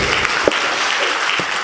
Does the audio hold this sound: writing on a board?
no